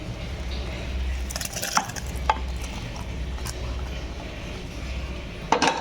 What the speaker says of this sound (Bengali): সেদ্ধ হয়ে গেছে জামগুলো আমি এবার ঢেলে নেব একটা অন্য পাত্রে